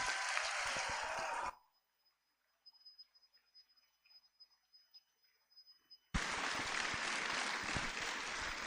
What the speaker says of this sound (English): Join us in congratulating the fresh graduates by giving a hearty round of applause to all of them and to their proud parents as well